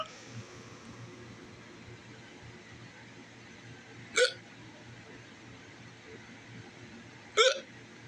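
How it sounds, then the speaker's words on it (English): Two sharp hiccups, a few seconds apart, stand out clearly against a quiet background hiss, each a short isolated burst. "See if if the hiccups will go away."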